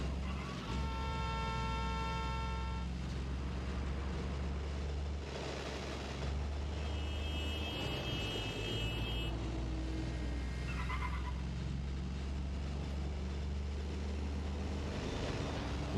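Car driven through city streets in Watch Dogs: Legion, a steady engine drone with road rumble running throughout at a constant loud level, with brief whooshing and mechanical bursts layered on top.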